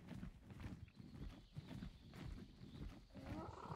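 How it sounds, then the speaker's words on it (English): Horse sounds in the video game Ark: Primal Fear, with rhythmic hoof clip-clops and snorting, continuous and fairly close, over a busy low rumble of game background noise. "Let's go tame these horses."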